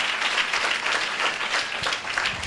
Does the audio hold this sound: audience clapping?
yes